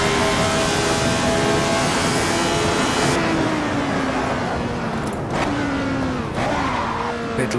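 A Lotus 72D race car in a racing video game howls at high revs, its engine pitch climbing then dropping sharply through a quick gear shift, loud and continuous with a brief dip near the end.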